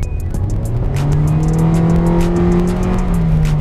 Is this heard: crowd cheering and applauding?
no